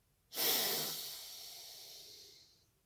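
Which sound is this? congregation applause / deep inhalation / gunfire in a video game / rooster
deep inhalation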